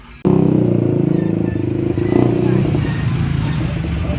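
A Yamaha Sniper Classic motorcycle on a test drive roars in loud and near, its engine note rising and holding steady with some clatter as it rides past, and no one speaks over it.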